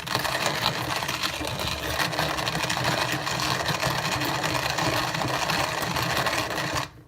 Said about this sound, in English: So to grind coffee in here, you just put the amount of beans that you need